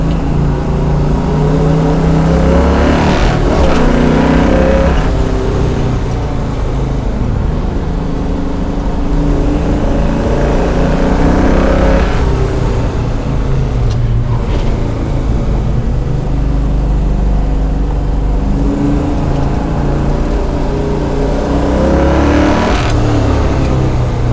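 A Chevelle SS454 on a road course at Stratotech Park accelerates hard, its big V8 roaring loud and continuous, with engine pitch rising and falling through several throttle surges and gear changes.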